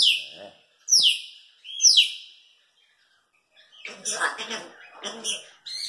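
An African grey parrot gives three sharp descending whistles, pauses, then makes raspy, chattering, voice-like noises at close range; no human speech is heard.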